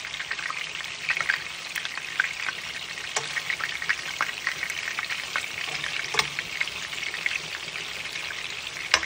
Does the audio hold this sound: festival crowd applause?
no